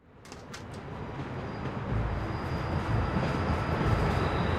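A low, steady rumble of a train running in the video game Telltale's The Walking Dead, building gradually louder over several seconds, with a faint high whine above it and no voices.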